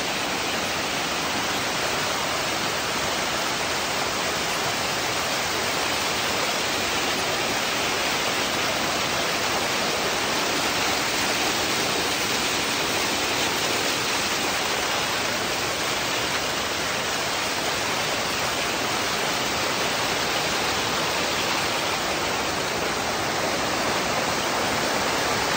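The cascading water of Dunn's River Falls roars as a loud, unbroken wash of white noise that holds steady the whole time with no voices.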